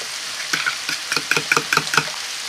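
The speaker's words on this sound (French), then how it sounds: "on va venir battre nos œufs" Eggs and cream being whisked for a crustless zucchini quiche, a quick run of rhythmic clicking beats against a bowl, close and growing steadier and sharper.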